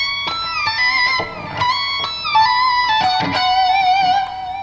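An electric guitar plays a pentatonic lick with a bend, a release and a tapped hammer-on, picked notes sliding and wavering through a fast phrase, loud and close with effects and no talking.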